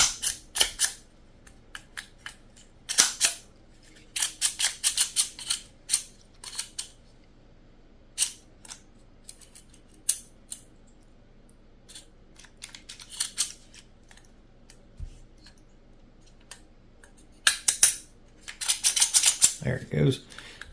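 A Byrna less-lethal launcher being reassembled gives off bursts of sharp mechanical clicks and rattles as parts are worked back into their notches, close and intermittent with quiet gaps between clusters.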